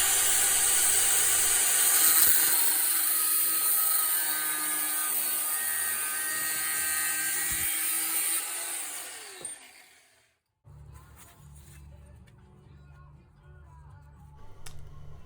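A power tool, likely an angle grinder, cuts through the steel head of a Brades hammer with a sustained high whining hiss for about ten seconds, stopping abruptly before quieter shop clatter.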